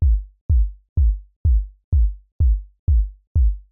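Eight identical kick drum hits synthesized in Ableton's Operator at a steady, even pulse, each a punchy low thump with a quick downward pitch-envelope sweep and short decay.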